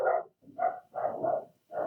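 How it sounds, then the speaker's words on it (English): A dog barks at a garbage truck, four or five quick, mid-pitched barks in close succession, fairly near and clear with brief gaps between them. "Hopefully people can hear my dog barking at the garbage truck."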